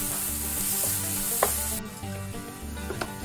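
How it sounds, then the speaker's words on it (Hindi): Shredded cabbage and carrots stir-frying in a pan for a street-style veg momo filling, giving a steady close sizzle with a few light stirring knocks and no voices. "टोटल आकु 4 रु 5 मिनिट आमे भाजिबा।"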